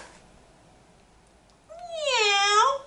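Voice imitating a cat's meow, a single drawn-out rising and falling mew after a near-silent start, close and fairly loud.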